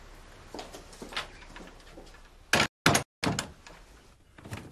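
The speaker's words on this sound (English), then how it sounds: "Was there somebody at the door?" Knocking at a house door in a British soap drama: a few loud, sharp raps in quick succession after a stretch of quieter rustling and movement, with no speech.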